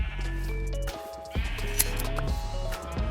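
Sheep in Minecraft bleating repeatedly, several drawn-out wavering calls following one another, loud and close, with no talk over them.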